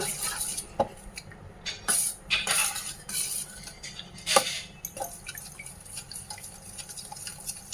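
Half a bowl of milk stirred with a spoon, with light metallic clinks and scrapes against the bowl and soft liquid swishing coming in irregular bursts, close and moderately quiet, with no talking.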